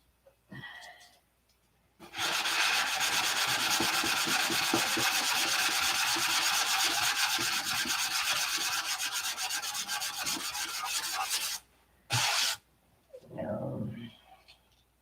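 Sandpaper rubs hard against a wooden surface to strip away old aqua green paint down to a thin dot, a loud continuous rasping stroke lasting about ten seconds, framed by brief bits of talk before and after.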